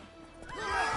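A horse in The Witcher 3 neighs once, a short rising whinny close up that swells in loudness toward the end.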